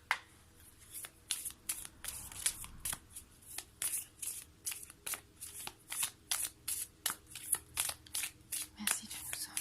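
Tarot cards riffle and slap in a steady run of sharp, papery bursts, close and fairly loud, repeating about once or twice a second throughout with no talking.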